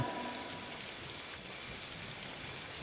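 A heavy rainstorm pours down steadily in an audio drama scene, a dense, continuous wash of rain hiss at a fairly low level with no talking.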